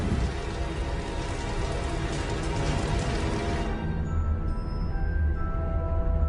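Steady rain pours down as a dense, even hiss, standing in for methane rain, with a faint low rumble beneath; the upper wash thins out partway through while the downpour continues alone.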